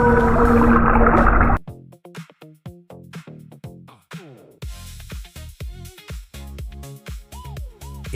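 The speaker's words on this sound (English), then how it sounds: "It's a whale. Beautiful sound." Whale calls with rising and falling moans and whooping tonal sweeps, repeated in a rhythmic pattern over a steady underwater pulse, following a brief loud burst of noisy tones at the start.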